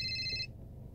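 An incoming-call phone ring, a short electronic tone that sounds for about half a second and then stops abruptly, faint against a low background hum.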